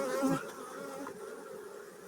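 Close, droning buzz of many honeybees at the hive, a brief louder pass of one near the start, then a steady hum continuing at moderate volume.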